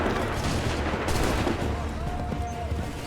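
Musket volley in Assassin's Creed III, a dense crackle of overlapping shots rolling on continuously at close range, mixed with shouted commands and battlefield noise.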